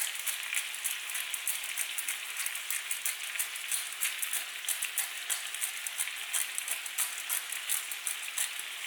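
Cajun-spiced blackened fish fries in a hot pan, giving a steady, dense sizzle with constant crackling spatter throughout, close and moderately loud with no voices.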